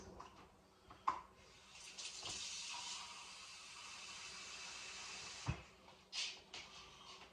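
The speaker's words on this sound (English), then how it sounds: "I gotta get them covered in 5 cups of water." Water runs and pours over dried beans in a pot, a soft hissing stream with a few sharp knocks and clatters of a container, fairly quiet and close.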